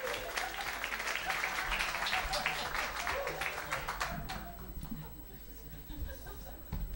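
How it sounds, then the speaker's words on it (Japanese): A church congregation during a Sunday worship service welcomes someone with applause, a full burst of clapping that fades over several seconds, with voices in the room underneath and toward the end. "拍手を持ってどうぞ皆さん迎えてください。"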